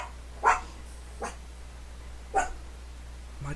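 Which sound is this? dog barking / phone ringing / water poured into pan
dog barking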